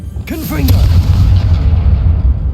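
A Confringo blasting spell in the video game Hogwarts Legacy, a loud close boom with a brief rising whoosh at the start and a rumbling tail that fades over about two seconds, with a short voice sound near the start.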